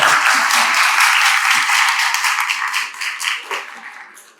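Audience hands clapping in steady applause at the closing of a philosophy synthesis day, a loud, even wash that continues and slowly tapers off.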